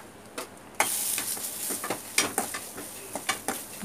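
Crushed pepper and cumin powder sautéing in a pan for pepper rasam, a bright hiss of frying joined by several quick scraping stirs, close, with no voices.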